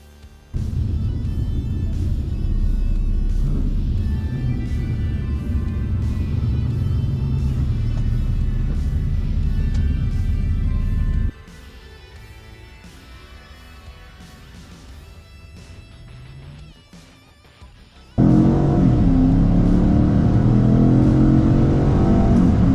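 An old Dodge and a Chevrolet Caprice police car accelerate hard in a race. A loud, steady engine roar runs at close range, drops to a quieter rumble, then surges back to a loud roar.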